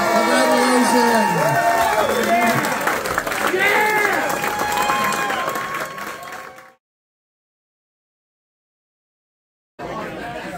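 An audience at a bar's music awards applauds and cheers for a rock band, a loud burst of clapping, whoops and shouting voices that fades out, falls silent, then returns briefly.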